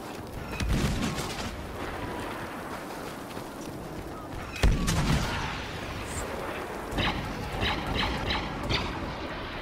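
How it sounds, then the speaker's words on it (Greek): Cannon fire in a video game: several deep booms and sharp blasts ring out, with one loud impact near the middle, over a rumbling battle background and scattered quicker shots. "Κανόνι."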